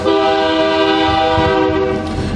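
A passing train sounds a long, loud, steady horn blast, close and alone, with rumbling rail noise beneath.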